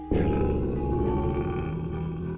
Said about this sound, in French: Ne me dites pas que vous avez un lion à la maison.